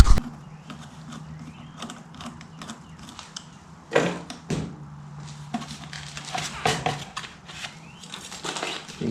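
Clicks, scrapes and ratcheting clatter as a clamp is loosened and the air filter is pulled from a John Deere 332 tractor, with a steady low engine-like hum beneath.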